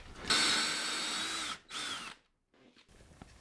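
A handheld drill clamped into an improvised rig bores through a computer circuit board, a close, loud high whine that runs steadily, pauses briefly, spins again and then winds down.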